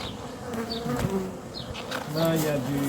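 Honeybees swarm around an open hive during cold-season confinement, a dense steady buzz of many insects close by, with some voices talking over it.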